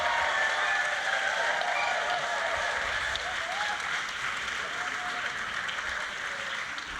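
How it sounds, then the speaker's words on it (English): Audience applause at an event on Black philanthropy and storytelling, a steady, moderately distant wash of many hands clapping that holds evenly and fades slightly toward the end. "Can we give her a round of applause?"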